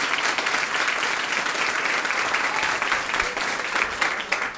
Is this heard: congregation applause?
yes